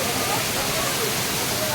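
Kumbhavurutty waterfall, a bathing spot, gives a loud, steady, unbroken roar of falling water that fills the whole moment without any pause.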